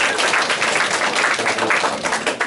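Crowd applause rings out for a patron being introduced at a live art battle painting competition in Chilliwack, a steady, dense clapping from an audience that fills the room at a consistent level throughout.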